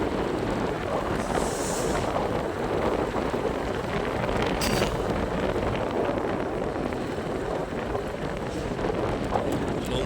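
Strong wind blowing at a temple at night, a steady, loud broadband rush that fills the whole stretch with gusty buffeting on the microphone and no clear voices.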